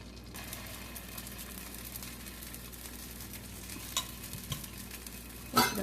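Ghee and paniyaram batter sizzle in a hot paniyaram pan with a steady, close frying hiss, a few faint clicks and a brief louder clatter near the end, with no voices.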